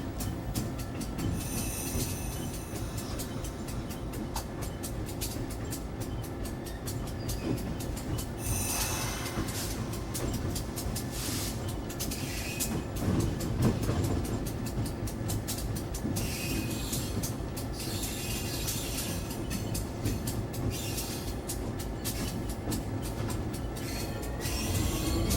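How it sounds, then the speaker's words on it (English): Lehigh Gorge Scenic Railway passenger train easing to a halt at Old Penn Haven after its 8-mile ride, with steady rumble of rolling cars, faint wheel squeal and a few clanks, close and continuous throughout. "At Old Penn Haven, the train comes to the end of its 8-mile ride."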